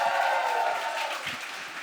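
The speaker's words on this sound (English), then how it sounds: "Give yourselves a round of applause for making it out" Live podcast audience at a music venue applauding, a short burst of clapping and cheering that fades slightly over two seconds, with a few low thumps.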